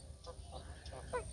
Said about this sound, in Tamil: வாத்துக்கள், ஒரு பரேடு வருது, ஒரு இது ப்ரொசஷன், கூட்டம்